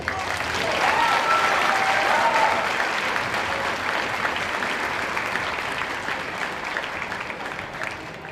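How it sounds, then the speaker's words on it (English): An audience gives sustained applause at the close of a high school JROTC Veterans Day ceremony honoring veterans. The clapping is dense and steady for about eight seconds, easing slightly toward the end. "Let's give one more round of applause for our veterans."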